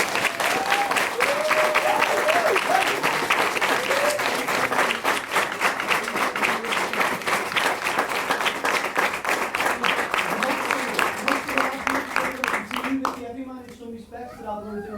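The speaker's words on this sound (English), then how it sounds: "Just want to give them another round of applause." An audience applauds students after a performance of The Trial of Hansel, sustained loud clapping from a crowd that goes on for many seconds and then fades out near the end.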